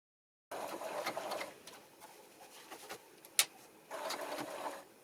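A sewing machine stitches a built-in triple top stitch in quiet, rapid mechanical bursts, pausing briefly mid-run with a sharp click before resuming, fairly faint and close.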